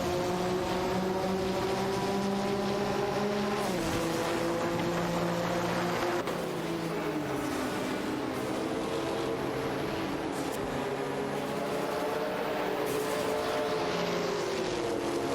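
Race cars in an AI racing video game roar along, engine notes climbing and dropping with shifts and passes, a steady loud mix of several motors with no voices.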